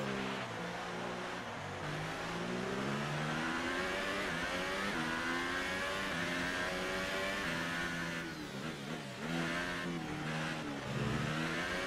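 Formula 1 race car engines on a formation lap in the F1 2018 video game at the Canadian Grand Prix, a close, continuous engine whine that rises and falls as the car revs and shifts, with no talk heard over it.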